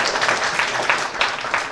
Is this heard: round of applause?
yes